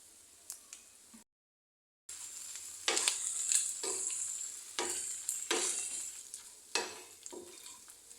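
Fried rice is stirred in a hot pan with dry chilli powder and soy sauce, producing repeated scraping spoon strokes over a soft sizzle after a brief silent gap.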